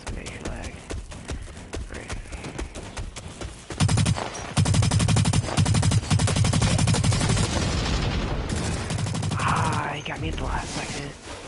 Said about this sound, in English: just this time we have an assault rifle